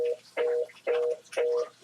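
Phone giving off repeated electronic beeps, four short tonal bursts in a quick uneven rhythm, fairly close and clear over near silence, with no talk.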